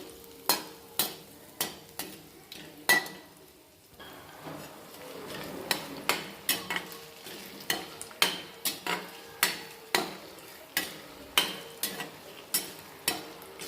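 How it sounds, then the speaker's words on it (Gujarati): Fresh green turmeric is stirred in a steel bowl over a low flame, with a spoon clinking against the metal in a steady rhythm of sharp, close taps over a soft sizzle. "એકદમ ધીમા તાપે આ લીલી હળદરને આપણે સાતરવાની છે."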